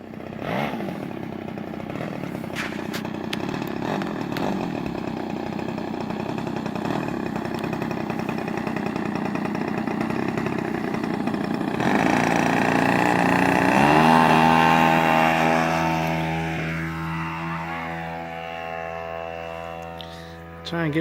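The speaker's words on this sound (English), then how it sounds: "Big old 50cc two-stroke." A big 50cc two-stroke engine on an RC model airplane drones steadily at an outdoor flying field, its buzzing note rising in pitch and shifting as the plane passes, with occasional faint voices nearby.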